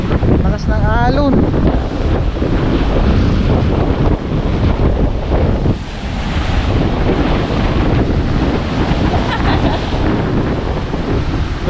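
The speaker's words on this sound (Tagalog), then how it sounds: "Lakas ng alon." Strong sea waves crash and churn in steady gusty wind at a shoreline near a pier, with wind buffeting the microphone loudly throughout and brief voices at the start.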